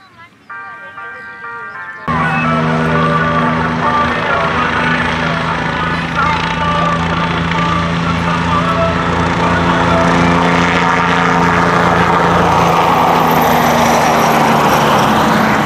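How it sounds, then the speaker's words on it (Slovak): A custom-built light airplane flies at the Dubová 2018 air show, its engine droning loudly and steadily after a brief musical jingle, with an announcer speaking over a broad, continuous roar. "Zoli sa vám predvedol tu v Dubovej 218 na lietadle, ktorých je vyrobený vo svete len 12 kusov"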